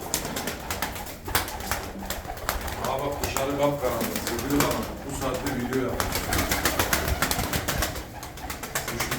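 Pigeons coo repeatedly in a loft, soft rolling throaty calls overlapping at close range, heard beneath ongoing conversation between men.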